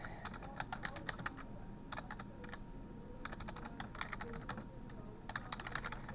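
Bursts of clicky keystrokes on a computer keyboard as a short network command is typed, irregular clusters of taps with brief pauses between them, close and clear over a faint steady background hum.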